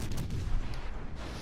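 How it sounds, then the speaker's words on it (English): Heavy naval gunfire from the battleship HMS Warspite in a naval combat game, a dense rumbling boom sustained across a short burst, loud and close with no talk. "Nuremberg here is about to eat a broadside salvo"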